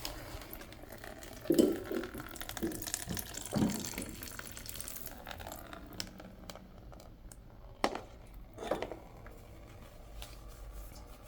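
Fork oil being poured out of a Honda fork, a soft trickling, splashing liquid sound with a few louder glugs and drips, close by in a quiet workshop, no voices.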